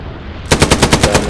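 Machine gun fire in the World War II shooter Hell Let Loose: a loud, close burst of about eight rapid, evenly spaced shots after a brief quiet lead-in.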